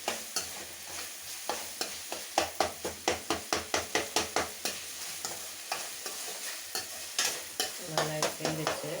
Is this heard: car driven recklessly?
no